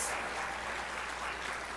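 Continuous applause from a graduation ceremony audience, a dense wash of many hands clapping at an even level, somewhat distant and filling a hall, with no voices standing out.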